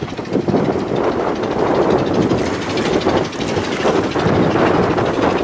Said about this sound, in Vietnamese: Chiếc này tàu du lịch nha.